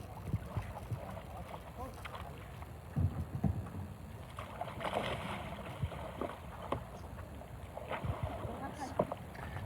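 A kayak rolls in shallow coastal water, with brief splashes and sloshing under steady wind noise on the microphone; a person talks at moments nearby.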